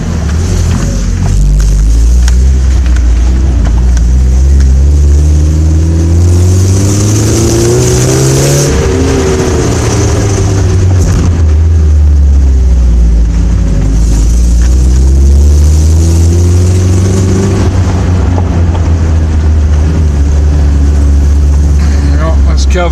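Off-road 4x4 vehicles climbing a mountain trail, engines droning and revving up and down in rising and falling waves, loud and close throughout, with people talking over the motor noise.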